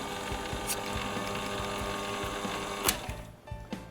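A small lathe turns steadily while antique Seth Thomas clock plate screws are restored and pivot-filed, a continuous fine mechanical whir with light ticking, a sharp click near the end as it winds down, no voices.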